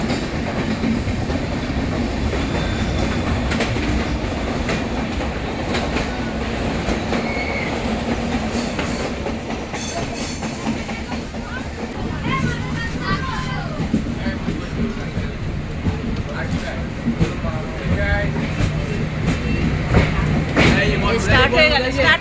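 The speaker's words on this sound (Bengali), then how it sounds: "বিশাখাপত্তনম থেকে কিরণদুয়ার প্যাসেঞ্জার ট্রেনে করে বোরাগুয়াড়ু স্টেশনে।" A Visakhapatnam to Kirandul passenger train rolls steadily along the rails, its wheels clattering with a continuous rumble and rattle of the carriages. Voices are faintly audible inside the coach.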